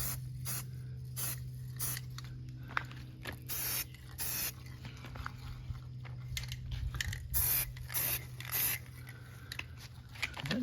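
Rustoleum camouflage spray paint applied to a Winchester SXP pump shotgun, a series of short and longer hissing bursts from the can, close and fairly quiet, with pauses between passes.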